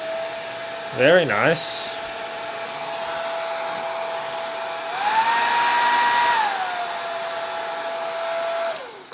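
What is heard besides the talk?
hair dryer running on heat setting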